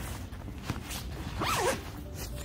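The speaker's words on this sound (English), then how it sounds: "so I can actually close the zipper" Close, clear rasp of a zipper being pulled shut on a Coleman Instant Cabin 6-person tent, a single steady run rising in the middle, with faint rustling around it.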